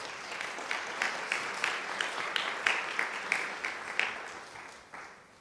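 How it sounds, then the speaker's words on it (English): Audience applause for spelling bee contestants at a district English spelling bee, a moderate crowd clapping steadily with distinct individual claps standing out, tapering off near the end. "We can get a round of applause for our spellers."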